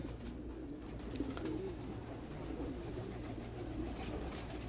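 Pigeons cooing in a sandy, dusty loft, a soft steady murmur of calls with occasional rustle of wings, moderately faint and continuous throughout with no talking.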